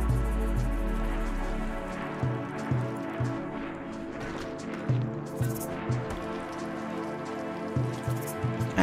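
Steady rain pours down continuously in the RimWorld video game, a dense hiss with soft recurring low thumps, with no talking over it.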